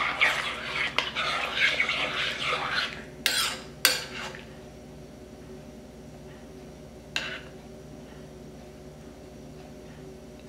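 Pork with salt and pepper stirred in a pan, scraping and clinking of a utensil against the pan in bursts at first, then a few sparse knocks.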